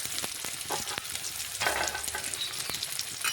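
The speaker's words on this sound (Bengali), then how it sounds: "এখন বেশ কিছুক্ষণ সময় নিয়ে পেঁয়াজটা একটু নাড়াচাড়া করে লাল লাল আমি ভেজে নেব।" Chopped onion frying in white oil in a pan for a chicken and potato dish, loud continuous sizzling with repeated spoon scrapes and stirring knocks, close and without talk.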